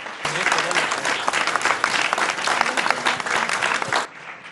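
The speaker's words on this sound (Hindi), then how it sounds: "जोरदार तालियों के साथ स्वागत" A studio audience applauds loudly to welcome Madhya Pradesh Chief Minister Mohan Yadav at a televised News18 India Chaupal event, dense sustained clapping that stops abruptly near the end.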